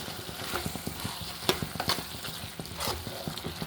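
A spoon scrapes and stirs cooked broad beans in a hot pan, with a steady sizzle underneath and irregular clacking strokes throughout.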